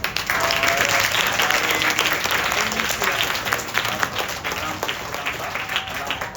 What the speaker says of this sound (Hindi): मैं एक बार फिर तालियों से आपका इस्तकबाल करता हूँ